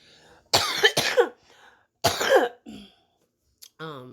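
Several harsh, close coughs from a person with a lung ailment come in quick bursts, followed by a brief throat sound and a short voiced murmur.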